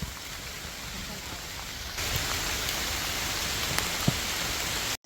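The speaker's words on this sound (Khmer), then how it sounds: "ឥឡូវមេឃកំពុងភ្លៀងហើយ" Rain falls steadily on Phnom Aural, a 1,813-metre mountain, making a continuous broadband hiss that grows louder about two seconds in and then holds even to the end.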